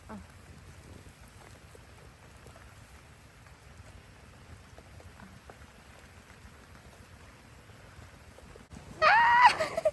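Steady soft rain patters throughout on a rice-field hut, close and even, ending with a sudden louder burst of a higher tonal sound.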